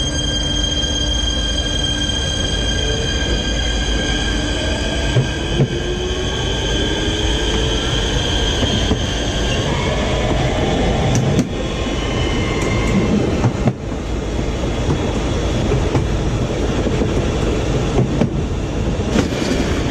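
A light rail train near Old Town Clovis rumbles steadily along the tracks with a loud, continuous roar, faint wheel squeals and clacking, and no voices.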